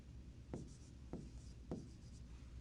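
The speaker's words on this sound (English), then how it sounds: "Step 2 is to draw out your new shapes" A pen drawing rectangle shapes on paper, three distinct quiet strokes spaced about half a second apart with faint scratching between them, close and alone.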